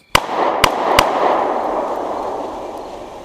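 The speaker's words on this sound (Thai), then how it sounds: "เสียงปืนระเบิดขึ้น" Three sharp gunshots in quick succession, loud and close, each followed by a long reverberating echo that fades out.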